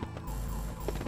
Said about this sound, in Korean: 뭐야, 이 경보음은.